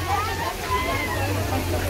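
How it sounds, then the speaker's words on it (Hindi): A garden water sprinkler sprays steadily in a botanical garden during a flower show, giving a continuous hissing wash of water with a low hum of crowd and distant music underneath. "पानी कैसा स्प्रिंकलिंग हो रहा"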